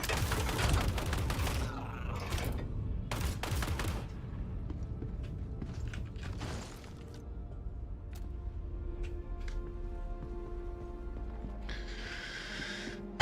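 Bursts of gunfire from the Star Citizen video game, clustered in the first four seconds as loud rapid volleys, then a quieter stretch with scattered thumps and faint electronic tones.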